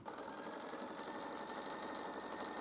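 A sewing machine stitching tucks in a blouse, running steadily with a fast even mechanical whir and rapid rhythmic needle ticking, close-up and continuous throughout with no speech.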